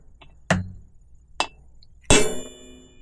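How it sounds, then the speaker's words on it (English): A punch struck with a hammer to dent a bicycle frame before drilling: three sharp metallic taps, the last one hardest and ringing briefly, close and alone. "Basically, we're just going to put a little dent in there."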